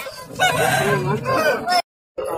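A rooster crows nearby at a rooster market in Kunnathur, a loud drawn-out call lasting nearly two seconds, followed by a short silence and faint noise.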